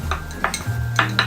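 A few short clacks and thuds of a non-stick rolling pin rolling fondant together on a workbench, close and distinct, with a steady low hum behind.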